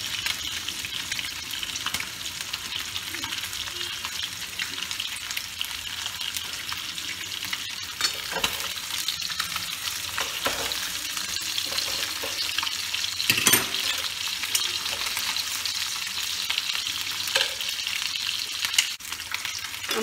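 Snakehead fish pieces fry in a pan for a Bengali curry, a close, continuous crackling sizzle with scraping stirs and occasional sharper clatters of the spatula, no voices.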